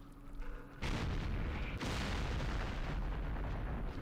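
An artillery strike in the Vietnam war game Campaign Series Vietnam, set during Lam Son 719, lands on a crowded hex. After a quieter start, two heavy blasts burst in about a second apart and trail into a loud, sustained rumble.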